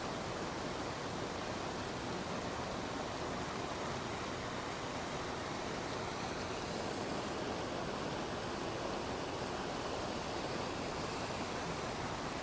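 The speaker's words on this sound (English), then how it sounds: "Maybe we should just sit and listen to the water." A springtime stream flows through woods in a state park in Madison, Connecticut, giving a steady, even rush of water that stays constant throughout with no voices.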